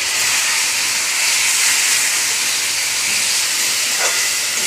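Spices, chilli, turmeric and coriander-cumin powder fry in oil with onion and tomato, giving a loud, continuous close sizzle and hiss with no talking.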